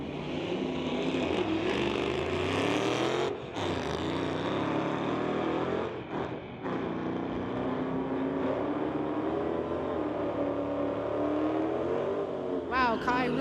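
A 1985 Regal and a Mustang drag racing at a street-legal strip event, loud engines roaring and accelerating at a distance with crowd and track noise, while an announcer talks over the racing.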